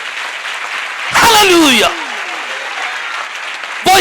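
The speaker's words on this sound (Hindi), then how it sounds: "ये तालियां जे मेरे महबूब यीशु वास्ते ने तो फिर खुल के होनी चाहिए।" A church congregation claps for Jesus in a short, loud burst of applause between stretches of a preacher's speech, with a second burst starting at the very end.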